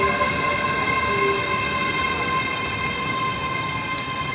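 A ScotRail Class 385 electric multiple unit at Stirling station, a loud steady electric whine with sustained tonal hum and rumble, continuous and close throughout.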